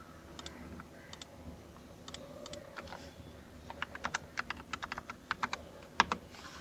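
Values are typed on a computer keyboard while working in Blender: crisp, quiet keystrokes in short uneven bursts that turn denser toward the end, against a low background hiss.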